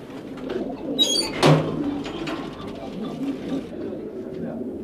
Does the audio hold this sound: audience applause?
no